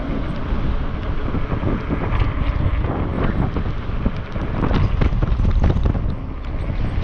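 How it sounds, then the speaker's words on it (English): Strong mountain wind buffets the microphone during an e-bike ride, a continuous low rumble and gusty roar, steady throughout with no other sounds. "It's getting windy."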